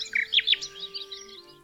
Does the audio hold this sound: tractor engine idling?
no